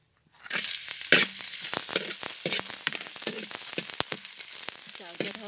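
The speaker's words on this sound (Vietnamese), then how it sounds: "Xào cho thơm." Minced garlic, sliced chili and sliced lemongrass sizzle and crackle in a hot oiled pan, with steady frying noise and scraping stirs throughout, close and fairly quiet.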